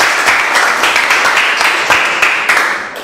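Classroom audience applauding during a quiz session, a dense burst of many hands clapping steadily for about three seconds, fairly loud and close, tapering slightly at the end.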